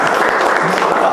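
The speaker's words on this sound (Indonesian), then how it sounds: "tepuk tangan untuk kita semua" An audience in a mosque management lecture breaks into brief, dense applause. The clapping is loud and steady for about a second, with a voice faintly underneath.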